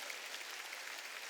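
A church congregation at a Wednesday worship service applauds, producing an even, continuous wash of many hands clapping at moderate distance, with no breaks or talk.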